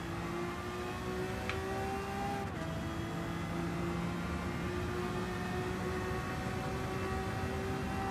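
Race car engine in Gran Turismo on Tokyo Expressway holding a steady loud drone, with a brief pitch drop around braking midway, then a sustained constant tone.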